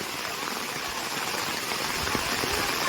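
Heavy monsoon rain pours steadily on a farm in Konkan, a dense, loud, unbroken hiss close by.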